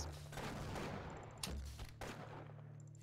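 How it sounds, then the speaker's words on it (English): Gunfire in a video game as a player shoots at mines, a dense burst of rapid shots with a sharp louder crack partway through, set against a steady game background hum. "Yeah, I'm gonna shoot these mines."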